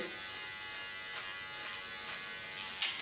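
An electric hair clipper shaves the nape of a woman's neck for a bob haircut, giving a steady, quiet buzz. A sharper click near the end stands out against the constant hum.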